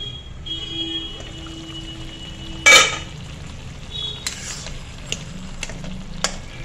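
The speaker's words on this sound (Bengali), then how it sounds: "এবার আরো 5-7 মিনিট পর ঢাকনাটা খুলে লাউটা চেক করে নেব" A pot of bottle gourd simmering for a Bengali lau ghonto has its lid lifted: one short, bright metallic clatter stands out over a soft bubbling background, followed by a few faint clinks.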